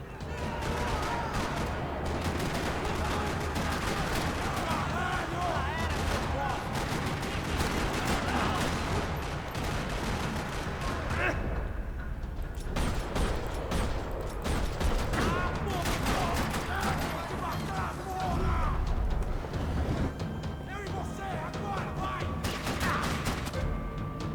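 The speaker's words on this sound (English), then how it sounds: "Another parking lot rattling with gunfire." Dense, continuous Max Payne 3 gunfire in a parking lot, rapid bursts and crackling shots filling the whole stretch, loud and busy, with voices mixed in underneath.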